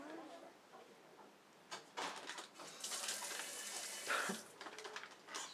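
A household tap runs water into a sink in a noisy, close splashing stream that swells and fades, with children's voices talking over it.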